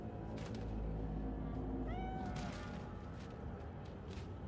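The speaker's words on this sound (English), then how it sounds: "Hello, stock kitty cat sound effect." Cat meow sound effect from a video game: one short meow rising out of a constant background of game noise, moderately clear.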